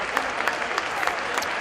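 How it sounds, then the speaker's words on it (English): Crowd at an amateur boxing event applauding after the fight, a loud, dense, steady roar of clapping hands with scattered louder claps and no clear talk. "Let's give these guys a round of applause."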